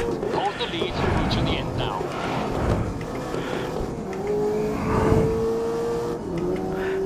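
A race car engine in Grid 2019 drones on with shifting pitch under a tyre whine, running steady and loud throughout while a person talks over it.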